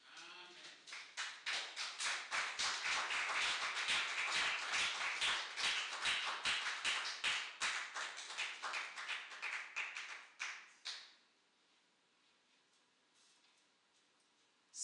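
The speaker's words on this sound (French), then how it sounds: "On acclame très fort le Seigneur" A church congregation in Essonne claps in steady unison rhythm during a worship service, loud and sustained for about ten seconds before stopping abruptly into quiet.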